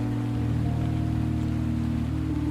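A soft, steady rain ambience, a continuous even hiss of falling drops with a low humming tone beneath it and no voices.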